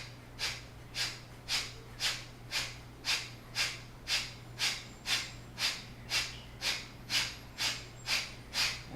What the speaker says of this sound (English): And finish with some Kapalabhati breath,